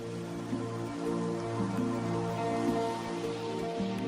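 Steady rain falls across a tropical rainforest in Asia, a dense even patter of drops on leaves and surfaces, continuous and fairly soft, with no voices.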